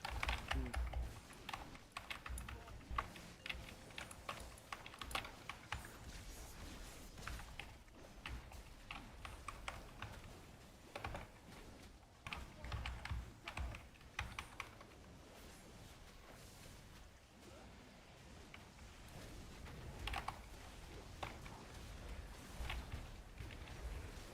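Steady typing on a computer keyboard, close and clear, with rapid irregular key clicks in bursts and short pauses throughout, quiet overall.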